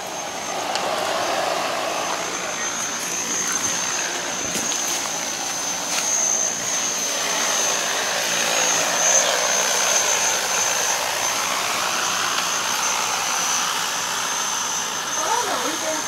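A Kubota agricultural drone flies at a 2024 Kubota large-scale farm machinery exhibition, its rotors giving a continuous, steady high whine over the open crowd ambience while an announcer speaks in the background.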